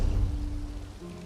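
Steady rain falling on an overcast morning in Elder Scrolls Online, a dense continuous wash of droplets with a low rumble underneath, fairly loud and close.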